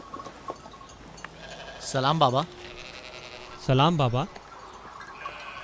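Two loud, wavering sheep bleats, each about half a second, separated by a short pause, close by over a quiet background, with brief speech between them.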